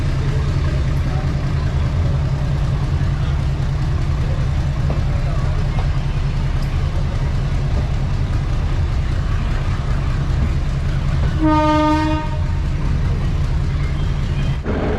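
A train from Junagadh junction runs at full speed through the city, a steady low rumble that continues throughout, broken near the end by a brief horn.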